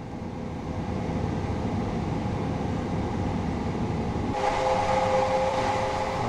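A steady low rumble of a train coasting along in Train Sim World on the East Coastway line, with a faint whine joining partway through, continuous and fairly loud with no voices.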